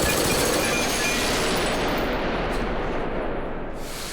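Gunfire from the film Batman Begins: a dense, continuous burst of rapid shots that holds loud and steady before trailing off slightly at the end, with no talking.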